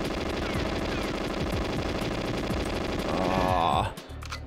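Rapid automatic gunfire in GoldenEye 007 on the N64 as ceiling turrets are shot, with loud continuous bursts that stop abruptly near the end and give way to a brief electronic tone, with no talking.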